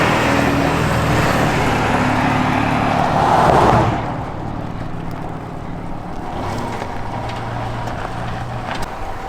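A 4-wheel drive truck is driven with a steady engine and road rumble plus wind noise, which swells for a few seconds and then settles to a lower, even drone.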